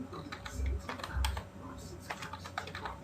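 Close, fast clatter of keys on a computer keyboard, a quick uneven run of taps and a couple of heavier thumps, with a person speaking softly underneath.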